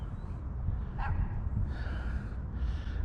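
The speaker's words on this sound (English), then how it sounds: "I heard dogs over there barking" Dogs bark in the distance at an old car junkyard behind a locked gate, giving a couple of short, faint barks over outdoor background noise.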